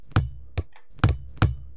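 A bouncing object in an Unreal Engine game plays four distinct thudding impacts at uneven spacing, each a sharp knock with a short decay and the later ones louder, with no voices and a quiet pause between.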